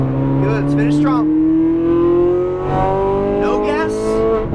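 A Ferrari 458 Italia accelerates on the race track at Exotics Racing Las Vegas, its engine note climbing steadily in pitch, loud and close from inside the car while an instructor talks over it.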